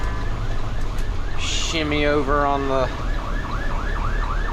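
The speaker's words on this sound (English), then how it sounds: "Okay, got an ambulance here" An ambulance siren wails close by, its rising and falling whoop cycling steadily and briefly joined by a higher yelping burst, heard over a bus engine's low rumble while someone talks.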